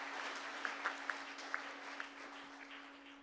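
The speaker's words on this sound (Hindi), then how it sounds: "एक बार जोरदार तालियां बजा दीजिए" An audience at a Holi humorous poetry gathering gives a brief, faint round of applause, a few sharper claps standing out over a steady electrical hum.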